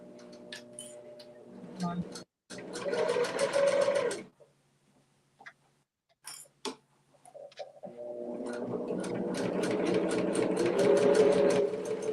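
A sewing machine stitches a fabric basket in two loud, close bursts of rapid rhythmic stitching separated by pauses, with a few short clicks between them.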